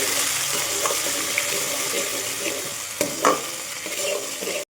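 Tomatoes sizzle in hot oil in a pan while aloo poha is cooked, giving a steady frying hiss throughout with a few brief stirring scrapes near the end.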